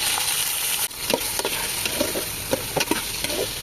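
Tomatoes, onion and ginger sauté in oil in a casserole, a constant hiss of frying with a handful of sharp spatula knocks and scrapes at irregular intervals.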